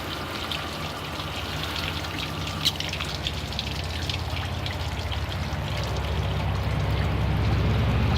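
Water is poured over car paint protected on one side by ceramic coating and on the other by sealant, giving a continuous close splashing and trickling wash that grows slightly heavier toward the end, with no talk.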